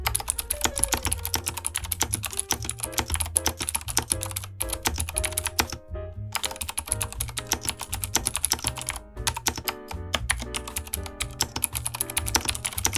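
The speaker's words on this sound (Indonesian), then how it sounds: "Kalian bisa dengar typing sound dari keyboard ini ya." Rapid clicky typing on an IQUNIX A80 mechanical keyboard with Cherry MX Blue switches, close and crisp, with steady bursts of keystrokes and a couple of brief pauses.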